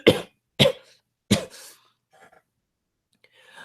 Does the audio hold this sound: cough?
yes